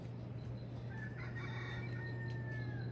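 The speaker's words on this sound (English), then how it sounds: "Here's the roosters." Roosters on a farm, one crowing a drawn-out cock-a-doodle-doo from a short distance over a steady low hum, with faint clucks nearby.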